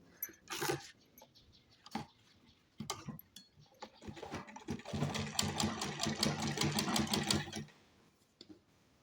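Sewing machine stitching a simple kurti (shirt), with short bursts of rapid mechanical clatter at first, then a longer steady run of stitching that stops abruptly near the end.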